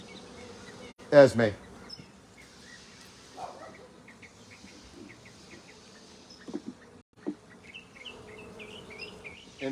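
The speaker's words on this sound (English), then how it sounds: "I'm going to shake these bees off" Honeybees buzz faintly around a hive frame being shaken during a hive split, a soft, steady drone with a few louder bumps and a person speaking briefly.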